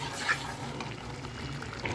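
Pilau rice simmering in a pot on the stove gives off a soft, steady bubbling and faint sizzle, close and quiet throughout the short stretch.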